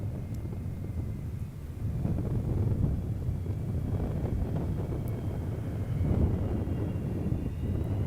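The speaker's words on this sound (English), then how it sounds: "Shuttle Carrier Aircraft returning to Kennedy Space Center for one final time" The Shuttle Carrier Aircraft touches down at Kennedy Space Center with a continuous low, distant roar that swells slightly in places, mixed with gusty wind buffeting the microphone.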